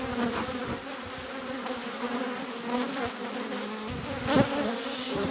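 Dense, steady buzzing of many agitated honeybees close by at an open hive, an agitated swarm hum with individual bees zipping past, louder briefly near the end.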